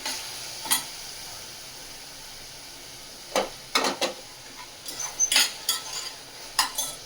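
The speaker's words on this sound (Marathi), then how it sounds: "मीठ घालून थोडं कांदा तेलावर परतवला की नंतर भाजी घालूया." Onion with salt sautéing in oil in a home kitchen, a faint steady sizzle broken by several sharp clinks and scrapes of a utensil against the pan, with no talking.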